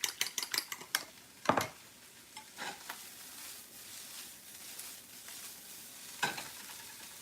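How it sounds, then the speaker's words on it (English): Onions caramelizing in a pan, a faint low sizzle with spatula scrapes and clinks of utensils against the pan, louder stirring bursts early and intermittently, otherwise quiet with no talk. "Caramelize some onions."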